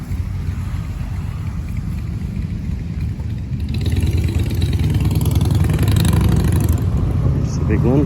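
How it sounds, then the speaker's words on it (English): A big Honda touring motorcycle on a street in Japan, its engine a low steady rumble that grows louder as it draws near, with a voice speaking over it. "Big Honda touring bike."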